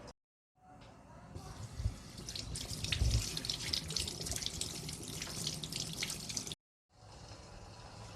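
Water runs steadily from a tap with splashing as something is rinsed underneath, continuous and close, with a brief pause near the end.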